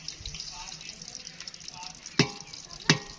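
Semolina roasting in ghee in a pan over a low flame gives a faint, steady crackle and shuffle, broken by two sharp scraping stirs near the end.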